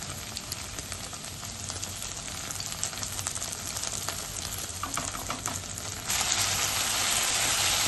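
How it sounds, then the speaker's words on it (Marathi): Pasta sauce with tomato sauce sizzles and sputters as it is sautéed in a pan, a close steady frying hiss with scraping stirs that grows louder toward the end. "परतून घेऊया."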